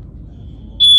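A hotel smoke alarm cuts in with a loud, piercing electronic beep late in the moment, after a low, quiet room hum.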